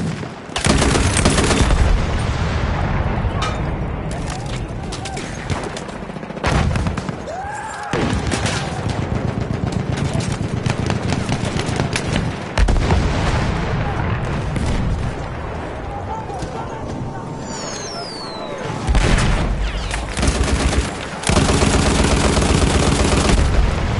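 Battlefield 1 combat roars with loud, dense gunfire, booming grenade blasts and artillery-like explosions, close and nearly continuous, with shouted voices breaking through the chaos.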